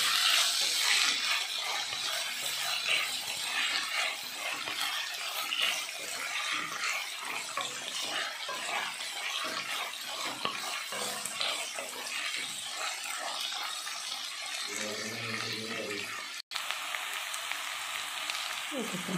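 Tempering for avarekalu uppittu frying in hot oil, a continuous crackling sizzle that stays loud and steady, with a brief low thump toward the end.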